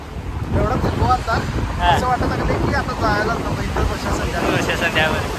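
Seaside wind in Mumbai gusts steadily against the microphone in a rough rumble, with faint voices partly buried beneath it.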